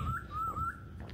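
A single wild bird gives a brief warbling, whistled call outdoors on a walk around the Peak in Hong Kong, clear over low background noise.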